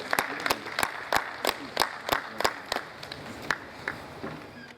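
Scattered applause from an audience at a business roundtable, sharp individual claps repeating close together and thinning out toward the end, with faint murmuring in the room.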